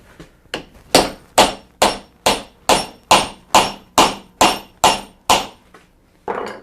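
A wooden pin driven into a drawbored mortice and tenon joint: about a dozen sharp, evenly spaced hammer blows, close and loud, ringing slightly higher as it seats.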